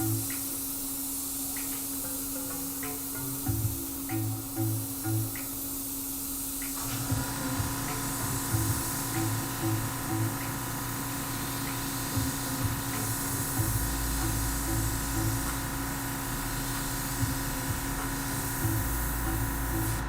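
An airbrush sprays paint onto a canvas with a steady, faint hiss, while a compressor hum and faint background sounds continue throughout.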